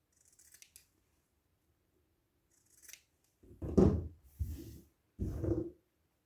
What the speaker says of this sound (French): Vous pouvez aussi couper un peu ici. pour pas avoir trop d'épaisseur.